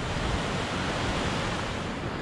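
Rushing river water surging through the Partnach gorge in Bavaria, a steady, dense broadband roar that stays loud and unbroken throughout, with no voices.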